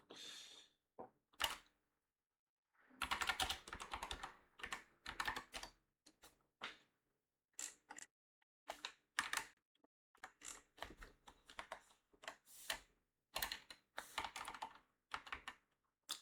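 Typing on a computer keyboard to correct mistakes: bursts of quick, close key clicks separated by short pauses, quiet and without speech.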